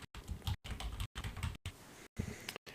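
Typing on a computer keyboard in quick bursts of close, crisp key clicks, separated by short silent gaps, with no talking.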